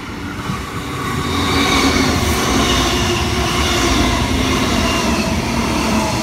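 An electric commuter train rumbles loudly through platform 3 at Lawnton Station, Queensland, a steady roar of wheels and motors that builds and holds throughout with no voices.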